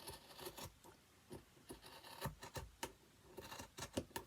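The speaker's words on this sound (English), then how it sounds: "You need sharp scissors for this as well." Quiet, close snipping and crisp cutting sounds from scissors trimming cord, irregular clusters of short snips with no talking.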